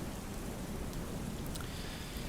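Steady rain pours down over a quiet outdoor spot, a dense, even hiss of drops on surfaces with no voices, holding constant and fairly soft throughout.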